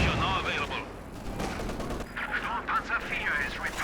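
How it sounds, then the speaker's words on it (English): Katyusha rocket artillery salvo in the World War II strategy game Company of Heroes 2, heard as a dense, noisy rush of launches and whooshing rockets under steady battle noise, with commentary voices running over it throughout. "First piece of rocket artillery is going to be Legio, and it's going to be the Katyusha"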